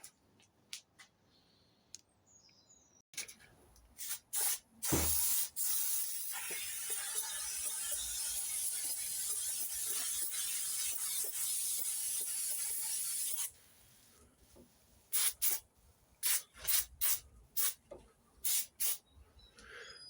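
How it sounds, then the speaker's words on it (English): A spray can of glue is used on parts for a 1970 MGB GT fuel tank replacement, giving a close, steady hiss for about eight seconds. Short rubbing and clicking handling noises come before and after it. "I'm just going to spray some glue on the back of them"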